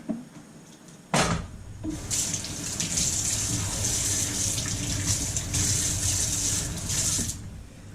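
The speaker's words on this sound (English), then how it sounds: "Let's get that rinse under the tap." Tomatoes are rinsed under a running kitchen tap. A sharp knock comes first, then the water gushes steadily and splashes, with its pitch shifting as the tomatoes move through the stream, until it stops just before the end.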